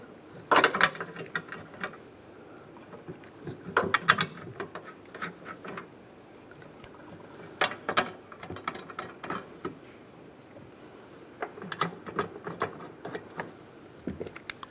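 Ratchet clicking as a bolt is tightened on a 2007-2013 Chevy Silverado during heater core replacement, coming in short, close bursts of sharp mechanical clicks separated by quieter pauses.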